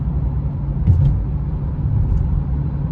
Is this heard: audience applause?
no